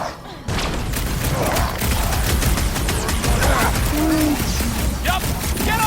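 Rapid gunfire rattles through a Guardians of the Galaxy video game battle, with dense overlapping shots and combat effects filling the whole stretch while voices talk over the action.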